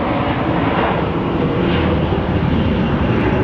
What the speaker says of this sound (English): Our Delta flight to Salt Lake is coming up.